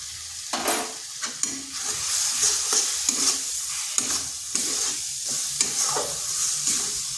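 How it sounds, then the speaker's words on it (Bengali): Eggplant fries in a pan over low heat with a continuous soft sizzle, broken by repeated scraping strokes of a spatula stirring it, close and clear with no talking. "আঁচটা স্লো করে 2 থেকে 3 মিনিট একটু নেড়ে নিচ্ছি"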